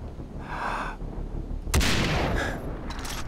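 A gunshot rings out in the video game Far Cry 3 Blood Dragon as a sudden, loud, sharp blast with a lingering noisy tail, preceded by a softer whooshing burst of game sound.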